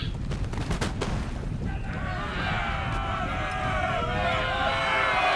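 Ragged musket volleys crackle in a Napoleon: Total War land battle at Amazon Confluence, sharp shots scattered over a dense din of marching troops and battle noise.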